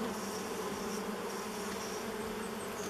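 Honey bees in a beehive unopened for over thirty years, a dense, continuous buzzing hum at a steady, moderate level with no breaks.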